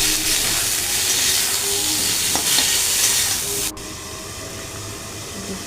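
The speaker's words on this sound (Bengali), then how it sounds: "এদিকে আমার ফুলকপি প্রায় ভাজা হয়ে গেছে" Raw salted cauliflower frying in hot oil in a pan gives a steady, close sizzle with stirring, then drops abruptly to a quieter hiss partway through.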